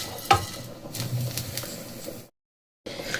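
Dried red chillies and cumin seeds fry gently in oil over a low flame, a soft steady sizzle with a few stirring scrapes, close by, then a brief silence before the sizzle resumes.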